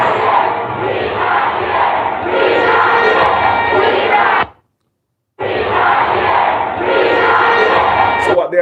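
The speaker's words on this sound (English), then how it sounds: "Them say them booing." Concert crowd booing and shouting in a loud, sustained mass roar, cut off by a short gap of silence before the noise resumes just as strongly.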